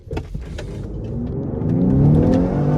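A stock Lincoln Aviator engine revving hard under acceleration, rising steadily in pitch and loudness over a few seconds, heard close from inside the vehicle with no talking.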